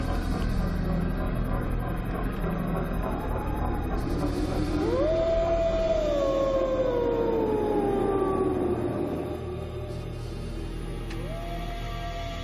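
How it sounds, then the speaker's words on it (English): A long, eerie werewolf howl rises, holds and slowly slides downward over a low rumbling backdrop, followed by a shorter second howl near the end, loud and close with no talking. "You'll hear him howling and you'll know exactly what he is."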